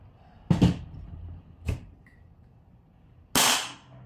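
A WE Hi-Capa T-Rex airsoft gas blowback pistol fires three sharp, loud shots with uneven gaps between them. Each crack is followed by a short hiss of gas.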